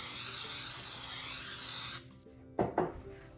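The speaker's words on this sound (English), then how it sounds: "I'm gonna use some nonstick spray." Nonstick cooking spray hisses steadily into a big pan for about two seconds, then stops, followed by a couple of sharp clunks of the can or pan.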